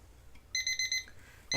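Kitchen-style timer alarm going off in a short run of four or five rapid, bright electronic beep bursts, fairly clear against a quiet room, with no talking over it.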